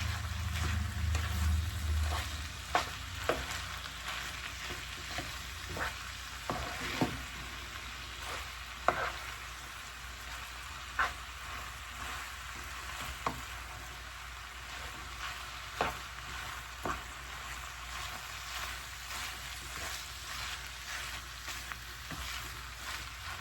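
Ground beef and Italian sausage sizzle steadily in a pan while a spoon stirs and scrapes, sending out sharp intermittent clicks over a constant frying hiss.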